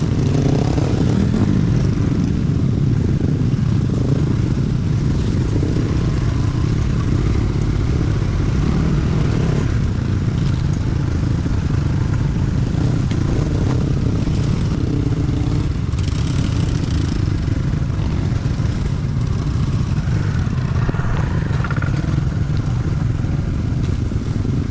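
A motorcycle rides steadily over a rough dirt road on a camping trip, its engine droning loudly without pause while the suspension and frame rattle and clatter throughout, with wind noise and no talking.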